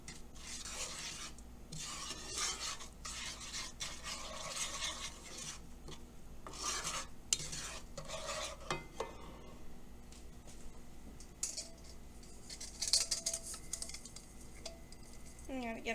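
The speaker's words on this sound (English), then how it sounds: "you want to stir it until it comes to a boil." A spoon stirs hot cocoa in a pot, making a steady, close scraping and rubbing with occasional clinks against the pot as it heats toward a boil.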